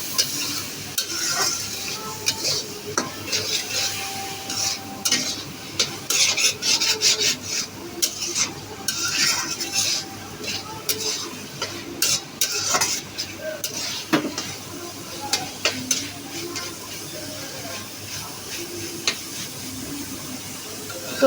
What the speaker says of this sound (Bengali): এখন আম্মু তেলের উপর মশলা দিয়ে এখন ভাজবে,